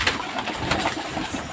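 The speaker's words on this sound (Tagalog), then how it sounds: "nagutom na nga yung mga ibon natin na galing din training ng Laguna" Racing pigeons back from a training flight coo at the loft during a derby race, soft repeated throaty murmurs in a steady close rhythm with no talk.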